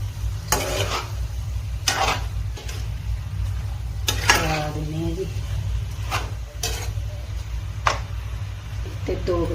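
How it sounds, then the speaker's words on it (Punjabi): A spoon scrapes and stirs salted rice with seasonal vegetables in a pot, giving sharp metallic scrapes spaced a second or two apart over a low steady hum, with brief voices in between. "ਚੰਗੀ ਤਰ੍ਹਾਂ ਆਪਾਂ ਕਰ ਦਿੰਦੇ ਹਾਂ ਮਿਕਸ"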